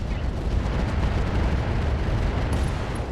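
A Crusader mech blows up in the RogueTech BattleTech game, a loud, dense, roaring explosion that fills a few seconds without talk.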